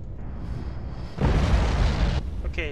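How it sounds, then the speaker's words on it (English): A missile strike explodes in the submarine game Cold Waters, a sudden loud, broad roaring blast that holds for about a second before cutting off, with no voices. "Okay, so the missile hit, surprisingly."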